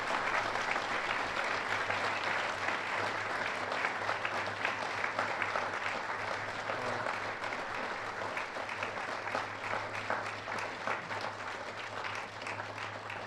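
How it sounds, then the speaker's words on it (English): Sustained audience applause at a Veterans Day program, a steady dense wash of clapping from a large crowd that holds for the whole stretch without fading, with a low steady hum underneath. "I would also like another round of applause for Mike for that wonderful speech"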